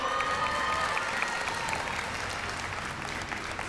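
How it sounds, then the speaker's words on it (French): An audience at a Japan Expo stage event claps for players Sam and Rachel, a dense, even round of applause from a sizeable crowd that holds steady throughout, with faint voices in the mix. "vous pourrez les applaudir pour Sam et Rachel"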